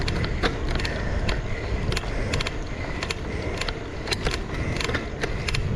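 Repeated light mechanical clicks and ratcheting from bicycle gears shifting come through while someone rides, set against a steady, loud rush of wind and road noise.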